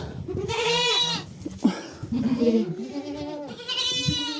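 Goats bleat repeatedly nearby in the rain, several loud wavering cries in succession with brief pauses between them.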